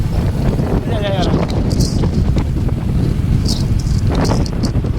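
Strong wind roars and buffets the microphone continuously, with people talking underneath and occasional sharp flaps or clatters.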